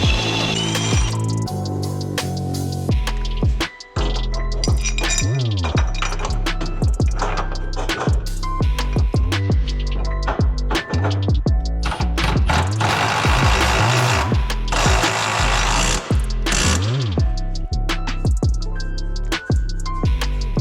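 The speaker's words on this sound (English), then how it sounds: "Got a little pilot hole. Now let's slop a big hole and bolt her up." A drill bores a large hole through a steel car frame rail on a Civic Type R build, a loud continuous grinding whine with rattling, chattering pulses and brief pauses.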